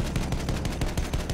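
Rapid, dense automatic gunfire from a video game clatters loudly and continuously in a short burst, with no voices over it.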